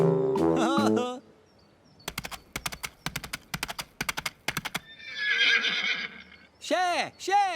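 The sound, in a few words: Teletubby Tinky Winky imitating a horse neighing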